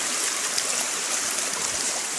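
Stream water rushing and gurgling steadily at a river crossing on a solo hike of Mt Kapakapanui, a continuous close hiss with no talk.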